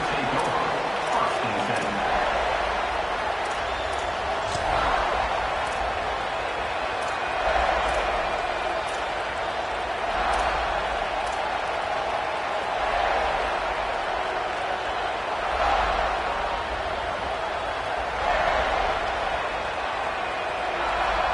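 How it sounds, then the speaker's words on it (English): A stadium crowd at a football game roars continuously throughout, with periodic swells of cheering and clapping, while an announcer talks over the noise. "Listen to this crowd just shaking the girders of this place, trying to help their defense."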